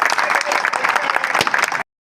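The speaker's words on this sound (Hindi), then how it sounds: "जोरदार तालियां।" An audience at a National Safety Week event in Jamnagar bursts into loud, close clapping, a dense burst of hands with some crowd noise mixed in, then cuts off abruptly.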